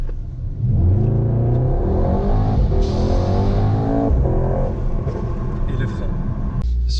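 A Mercedes-AMG GT63s 4Matic accelerates at full throttle, its engine roaring and climbing in pitch through rising gear sweeps, loud and close, with a shift break partway through and someone talking over it.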